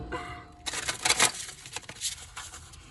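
A tarot deck being shuffled by hand, papery card riffles and soft slaps in short uneven bursts, close and fairly quiet, with no voices.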